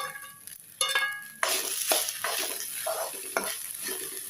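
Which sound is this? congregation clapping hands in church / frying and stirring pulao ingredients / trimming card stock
frying and stirring pulao ingredients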